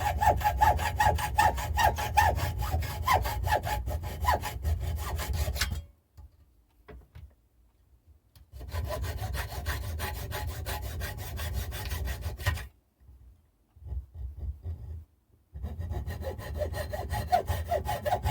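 A hacksaw cutting through a small piece of tube, steady rhythmic back-and-forth rasping strokes up close in three long bursts separated by quiet pauses.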